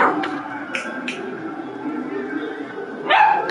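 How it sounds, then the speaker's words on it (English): A puppy named Dolly yips and barks excitedly in the background, a handful of short, sharp bursts spread across the stretch, the loudest near the end, over a steady low murmur of broadcast sound. "The puppy Dolly getting excited in the background."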